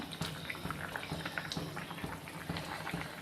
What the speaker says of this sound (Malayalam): കറി നല്ല അണക്ക വെന്ത് വരുന്നുണ്ട്